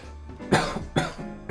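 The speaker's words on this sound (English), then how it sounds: "Sorry, just coughing." Three sharp coughs from a person in a quiet room, evenly spaced about half a second apart, close to the microphone with no talk.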